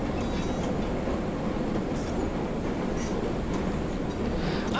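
A subway train in an indie video game runs continuously with a dense rumbling roar and faint rhythmic clatter of wheels on the track, steady and close throughout.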